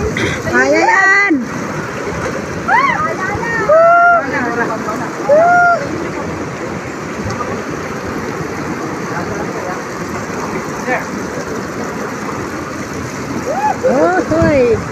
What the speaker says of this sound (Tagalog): Ang tubig dito napakalakas.